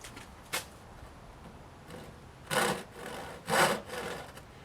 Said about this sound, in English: use the saw to create a kerf, which is a shallow saw cut